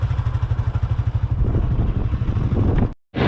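A motorcycle rides along, its engine thumping in a fast, pulsing rhythm with wind buffeting close to the mic, loud and continuous until a brief dropout near the end.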